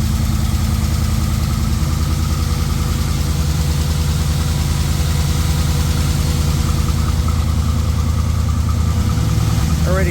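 An LS1 V8 engine idling with lifter noise and a squeal, a steady loud rumble with a fast ticking pattern and a faint high whine, heard up close without talk.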